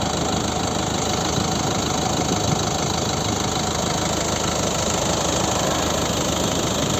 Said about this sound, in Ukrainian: Послухайте, як працює двигун.